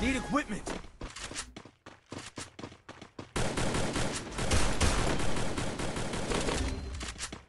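Gunfire in a battle royale video game, bursts of rapid shots and heavy thuds that start sparse and choppy, then turn into dense continuous firing with a player talking over the action.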